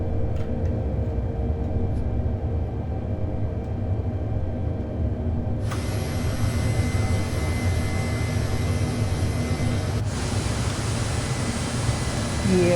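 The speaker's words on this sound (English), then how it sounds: "This is a pretty noisy helicopter on the outside." An Mi-8 helicopter engine starts up outside with a steady, loud roaring rumble that rises in steps as the turbine whine builds in, continuous and close.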